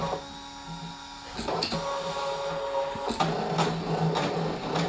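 A Brother DesignNCut cutting machine cutting, a mechanical whirring with stepping motor tones and short bursts of movement, heard up close beneath a speaking voice.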